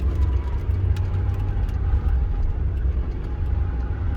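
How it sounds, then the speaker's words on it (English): A little Rover 25 car driving around a roundabout, heard from inside as a steady low engine drone and road rumble, unbroken throughout. "I reckon this little Rover 25 will go around one of these roundabouts much quicker"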